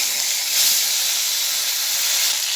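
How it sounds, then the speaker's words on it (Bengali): Gaina fish coated in salt and turmeric fry in oil in a pan, making a continuous, even hiss that stays close and steady throughout. "এবার মাছগুলো ভেজে নেব"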